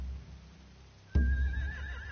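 Horses whinny in The Walking Dead: The Final Season video game, one sharp, loud neigh bursting in after a low rumbling background and trailing off in a wavering whinny.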